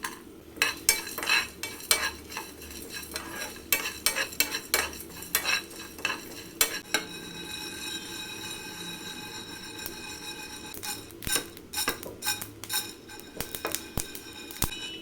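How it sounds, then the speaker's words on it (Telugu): Whole spices frying dry in a pan, cinnamon stick, cloves and cardamom: rapid, irregular scraping and clinking of a spoon stirring against the pan, close and crisp, with short pauses and a faint sizzle underneath. "ఇప్పుడు వీటిని అయితే దోరగా ఫ్రై చేసేద్దాం చెక్క ముక్క లవంగము ఒక ఎలాచి కూడా వేసి దోరగా ఫ్రై చేసేద్దాం"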